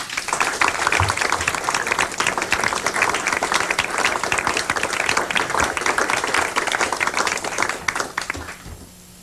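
An audience applauds steadily at a lecture on George Washington, dense loud clapping filling the room for about eight seconds before fading out abruptly.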